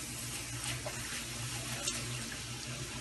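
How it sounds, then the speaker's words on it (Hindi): A cup of milk poured steadily into a chicken snack mixture, a continuous close liquid stream lasting about three seconds with no talking. "दूध डालेंगे"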